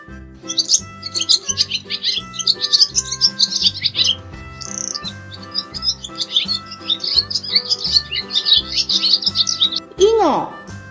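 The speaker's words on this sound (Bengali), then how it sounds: "ঘুঘু পাখি ডাকছে গাছে" High birdsong twitters and trills almost continuously over a steady, rhythmic musical backing, ending with a sweeping squawk.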